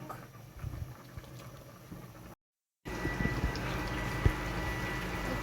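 Ofe Akwu, a Nigerian palm-nut stew, bubbles and simmers in a pot, a soft low gurgling with scattered pops and a brief silent break partway through, fairly quiet and close.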